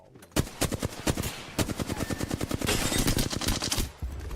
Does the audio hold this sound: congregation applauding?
no